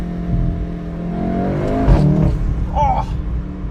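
A VW Golf 7.5 R accelerates hard with a rising exhaust note heard from inside the car, and a voice speaks briefly near the end.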